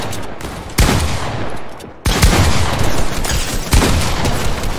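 Rapid video game gunfire, dense overlapping shots and bursts that fill the whole stretch loudly, with a brief lull before the firing resumes even harder.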